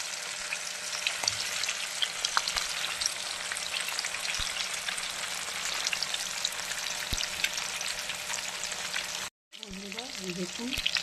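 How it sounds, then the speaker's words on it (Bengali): Bhetki fish sizzles steadily in oil with a constant close crackle and occasional pops; the sound cuts out briefly near the end, and a voice follows. "এই দেখুন কত সুন্দর ভাজা হচ্ছে"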